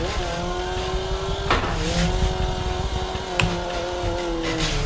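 Deathwish Garage K240 drift car in the Assetto Corsa racing game gives a sustained engine drone with shifting revs and bursts of tire squeal, loud and close with no talk.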